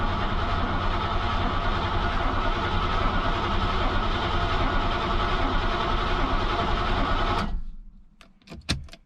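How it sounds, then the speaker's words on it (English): A Mercedes W126 560SEL, off the road for twelve years, cranks over with a loud, steady mechanical churning for about seven seconds, then stops abruptly, leaving a few faint clicks. "right, engine turning over."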